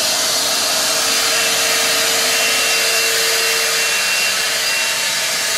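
A Titan shop vac fitted with a homemade dust extractor built from a broken Dyson cyclone roars loud and steady throughout, a constant close whooshing rush of air with a faint whine.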